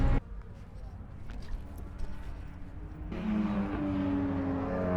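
Cars at a Japanese-domestic-market car show in Australia drive past, engine hum rising and then growing louder and steadier as a vehicle moves by close to the microphone, with no talk over it.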